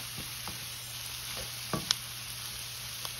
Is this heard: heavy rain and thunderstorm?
no